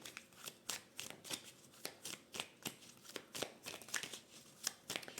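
Oracle cards are shuffled by hand in quiet, rapid, rhythmic riffles and slaps that repeat steadily throughout, close by and soft.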